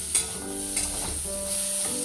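Potato and pointed gourd curry sizzling in a pan as it is stirred, with soft scraping strokes over a steady frying hiss, close and moderately loud, no talking.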